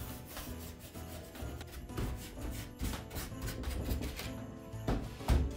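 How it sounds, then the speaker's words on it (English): Wax brush rubbing white wax onto a wooden nativity piece, close soft bristly scrubbing strokes repeating in an uneven rhythm. "I'm just gonna go ahead with a little bit of DIY white wax on my wax brush and just lightly kind of wax this"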